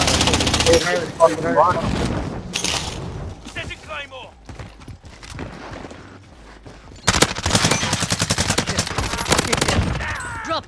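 Gunfire crackles inside a building in Call of Duty: Modern Warfare, loud bursts at the start and again as sustained rapid automatic fire in the latter half, with players talking between and over the shots.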